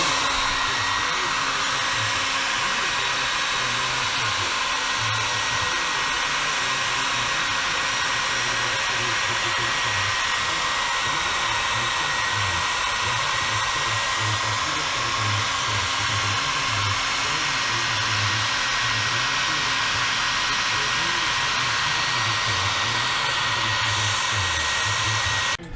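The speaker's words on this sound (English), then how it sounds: "Get the dryer out and let that dry." A hair dryer blows steadily and loudly on a freshly painted top coat on a wall, a constant whooshing hum with no pauses.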